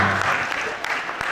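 An audience claps together in a dense, steady wash of applause that carries on without a break.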